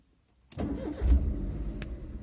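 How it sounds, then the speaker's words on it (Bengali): A car engine cranks and starts after a moment of silence, then settles into a steady, close idle while a driving lesson is under way. "এবার আমি ইঞ্জিনটাকে অন করি।"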